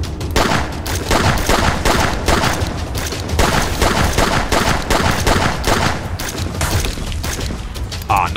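Rapid, dense gunfire from a stealth heist video game crackles continuously in close, loud bursts, without letup across the whole stretch.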